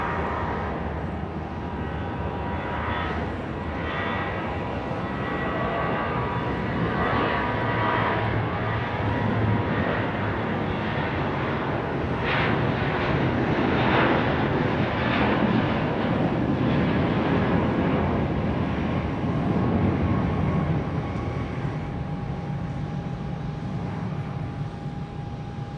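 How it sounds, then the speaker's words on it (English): Airliner on Flight 57 to Houston taking off from Dallas Love Field, a loud, steady broadband jet roar lasting throughout with a faint whine above it and no voices. "So Flight 57 to Houston is off."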